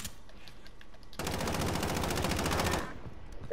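Rapid automatic gunfire from the video game Modern Warfare, a loud sustained burst of about one and a half seconds over quieter background game noise.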